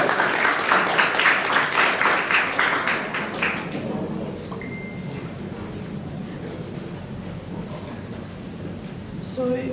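A burst of applause from a crowd at a Model UN general assembly, loud at first and fading after a few seconds into murmuring room noise.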